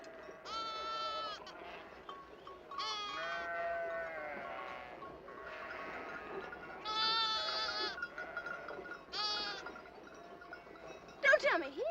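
Sheep bleating repeatedly, several wavering calls one after another, fairly close, with a sharp squeal near the end.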